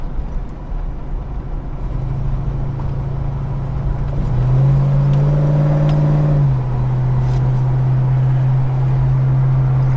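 An old Holden HK engine idles with a low, steady rumble, revving up briefly in the middle before settling back to a throaty idle.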